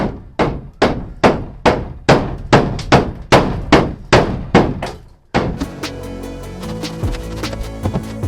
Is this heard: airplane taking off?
no